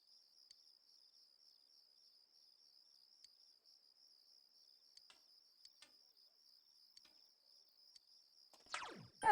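Crickets chirp in a video game as a steady, faint, high trill throughout, joined by sparse soft clicks and a sudden louder rustling burst at the very end.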